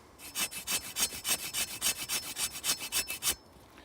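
A Tramontina machete scrapes wet wood into fine shavings, making about sixteen rapid, rhythmic rasping strokes close to the microphone, then stopping abruptly.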